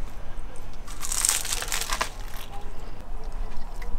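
Plastic bag wrapping crinkles and crunches as it is pulled off a frozen bacon and egg pie, with a busy burst of rustling in the middle and softer handling before and after, close up.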